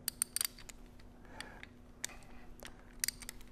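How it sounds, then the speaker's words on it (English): Pre-loosened bolts are taken out of the seal retainer on a Vilter VSS screw compressor shaft during seal replacement, giving faint, scattered metallic clicks and ticks, with a few sharper taps near the start and end. "and so we're going to take these bolts out."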